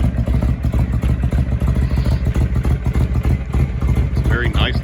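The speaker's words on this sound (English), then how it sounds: "It's a very nice looking bike, very nice sounding bike." A 2005 Honda VTX1300R cruiser motorcycle idles after a cold start, a loud, steady, close-up V-twin rumble with an even throbbing pulse and faint clatter, while a voice speaks over it.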